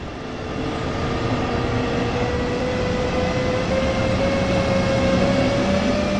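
Inside a double-deck passenger coach hauled by a BR-146.2 electric locomotive in a train simulator game, a steady rolling rumble with a rising motor whine runs continuously and fairly loud, with no voices.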